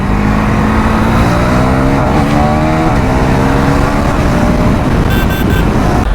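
A KTM Duke 390 motorcycle pulls hard in second gear, the loud engine note climbing steadily with close wind rush throughout.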